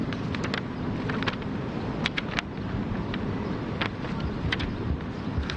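Strong outdoor wind buffets a microphone at a Fourth of July public safety briefing, giving a steady rumbling roar broken by scattered crackles and pops.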